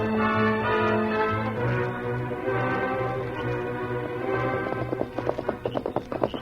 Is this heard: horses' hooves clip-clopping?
yes